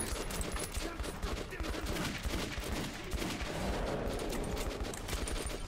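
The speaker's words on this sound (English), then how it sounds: "Let me just shoot him." Dense, continuous gunfire in the Metro 2033 Redux video game, rapid automatic bursts and shots layered into a loud, sustained fusillade.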